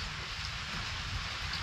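Steady rain falling outdoors over farmland in cold weather, a dense continuous hiss with low rumbling underneath, even and unbroken with no voices.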